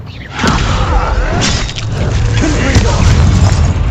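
A Descendo spell cast in Hogwarts Legacy, a heavy booming impact with rumbling, crashing texture, loud and close, with a voice heard alongside.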